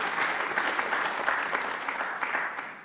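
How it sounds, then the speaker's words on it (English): An audience in a conference hall applauds new board members at an energy and environment expo morning session, a steady, even wash of clapping that holds for the whole stretch without voices. "So round of applause for those members."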